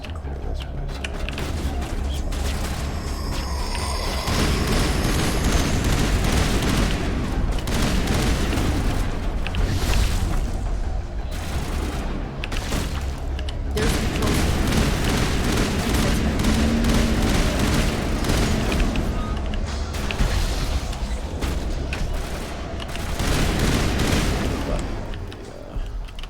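Grenade explosions in the Mass Effect 1 video game: dense, continuous roar of booms and crackling bursts that stays loud throughout, with gunfire-like pops layered in and a voice talking underneath.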